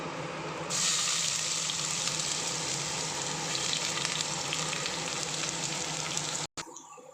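Onion and tempering spices hit hot oil and ghee for a big black-eyed pea biryani, bursting into a loud, steady sizzle that holds for several seconds before a brief cut.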